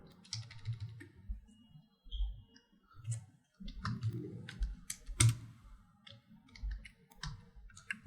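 Someone types on a computer keyboard while editing a file in a terminal, producing quiet, irregular key clicks in short bursts with brief pauses, close by and with no talk.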